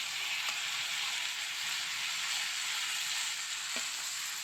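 Moong dal frying in a pan, a steady, bright sizzle that holds evenly throughout with a couple of faint clicks, close and continuous with no voices.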